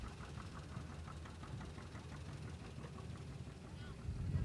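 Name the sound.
John Deere AR tractor engine running in parade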